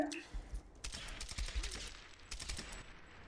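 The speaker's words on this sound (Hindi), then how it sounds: "मैं गन फायर करता रह गया" Quiet bursts of gunfire from the Tomb Raider video game, several rapid volleys spread through the moment, with someone speaking softly now and then.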